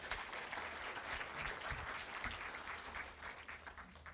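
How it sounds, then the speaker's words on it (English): A gathered audience at a university journalism hall of fame ceremony gives a round of applause, a faint, distant, even patter of many hands clapping for about four seconds. "Can we give them a round of applause?"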